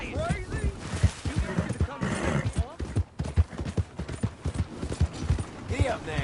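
Galloping horse hooves in Red Dead Redemption 2, a rapid rhythmic clatter of hoofbeats throughout, with voices talking over it.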